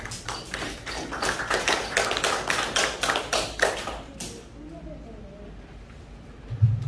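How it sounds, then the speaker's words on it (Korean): A crowd at a children's 5.18 national oratory contest awards ceremony claps to welcome a guest speaker. The applause is a dense, steady patter for about four seconds, then fades to quiet room tone with a faint thump at the end. "큰 박수로 환영해주시기 바랍니다."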